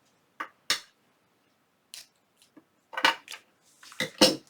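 Scissors snip through cardstock in a few sharp, close cuts, scattered at first and then clustering more quickly near the end, with quiet pauses between them.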